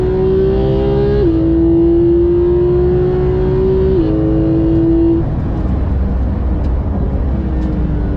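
A Porsche 991.2 GT3 on the Val de Vienne circuit, heard from inside, its engine droning loud and steady as it climbs in pitch, then dropping as it shifts, rising again and shifting once more before easing off.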